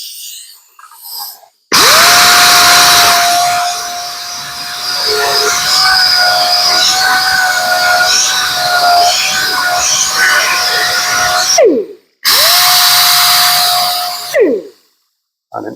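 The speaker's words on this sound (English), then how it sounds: "an orbital sander." An orbital sander with 80 grit sandpaper works over the body panel of a 1935 Ford being chopped, a loud steady whirring drone that runs for about ten seconds, cuts out, then starts again briefly.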